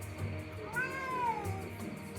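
A cat in a Ghana jungle camp within a video game gives a single clear, drawn-out meow that rises and falls, heard close over a low ambient background bed.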